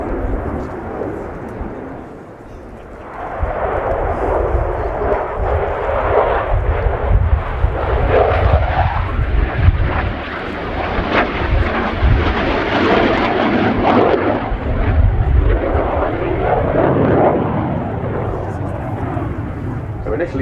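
Royal Air Force Typhoon FGR.4 jet in a flying display at RIAT airshow, a loud, steady, rumbling jet roar that swells and lingers for many seconds with a commentator talking over it.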